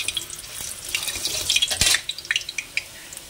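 Dried red chili hitting hot oil in a home kitchen pan, a bright crackling sizzle with bursts of spitting pops, loud and close, with no talk.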